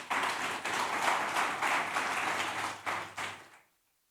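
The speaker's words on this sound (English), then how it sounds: "A round of applause, please, for Dr. Shikuku." An audience at a talk on pesticides in Kenyan markets claps together in a loud, even round of applause for over three seconds, then the clapping cuts off into silence.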